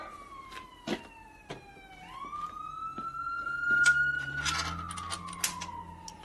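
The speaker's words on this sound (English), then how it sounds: "Sounds like an ambulance." A wailing siren slowly rises and falls, like a passing ambulance, with a few sharp knocks and clicks nearby.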